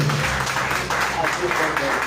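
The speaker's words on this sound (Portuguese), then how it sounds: "Dá um aplauso ao Senhor." Church congregation at a thanksgiving service claps for the Lord, a steady, full round of applause with scattered voices calling out over it.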